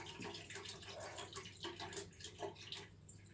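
Water running into a leaking toilet pan, a steady low hiss and trickle that fades away as the supply is shut off, faint and close with no one speaking.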